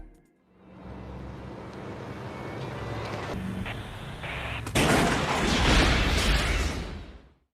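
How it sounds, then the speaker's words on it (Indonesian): A big explosion in a film scene, set off by helium gas in a car after a crash: a sustained roaring, crackling blast over rumbling background that swells suddenly louder partway through, then fades out. "terjadilah ledakan besar akibat gas helium yang ada di mobil Frank"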